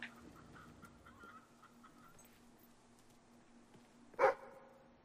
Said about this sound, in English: Where's my dog? There's my dog.